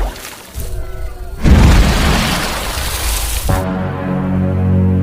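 A grenade goes off in the horror film Slither with a sudden loud blast and a crackling, debris-filled roar lasting about two seconds, then cuts to a low droning tone.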